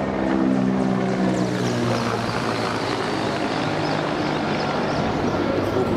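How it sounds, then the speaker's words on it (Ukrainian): A military helicopter flies over Poltava, its rotor and engine a loud, steady droning thrum with low pulsing tones that fills the whole stretch without pause. "у нас вже гелікоптери літають да, по Полтаві"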